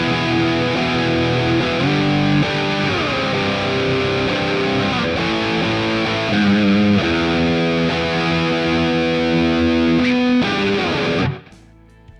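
Heavily distorted electric guitar through a Sonicake Pocket Master's UK Metal preset plays chugging chords and riffs with a dense, saturated metal tone, loud and continuous before cutting off abruptly.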